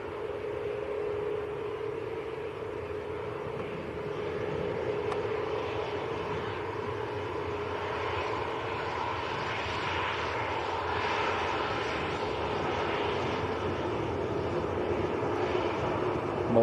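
A Maltese-registered Ryanair jet airliner at Manchester Airport gives off a continuous, moderately distant engine roar that swells slightly toward the end, steady throughout with no voices.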